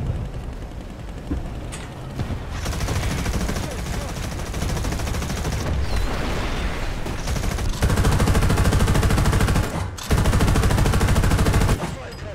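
Sustained machine gun fire from a vehicle in the War Thunder video game, shooting at a helicopter; dense, loud rapid bursts run nearly continuously, with brief pauses around the two- and ten-second marks.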